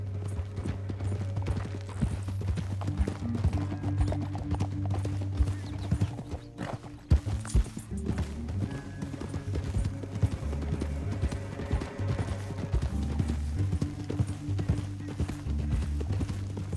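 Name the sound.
horse galloping in video game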